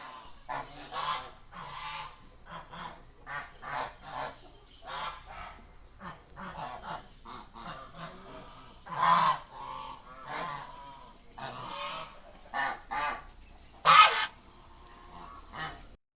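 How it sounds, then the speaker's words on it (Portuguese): Domestic geese kept at a home honk repeatedly in irregular bursts, some calls loud and close, others softer, with a few sharp loud honks standing out and no talking. "Nós temos também criação de gansos aqui em casa, então esse barulho são dos gansos."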